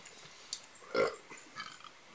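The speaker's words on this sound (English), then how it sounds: "Burp's good too." A burp after a sip of Not Your Father's Ginger Ale, one short throaty belch near the middle with faint room noise around it.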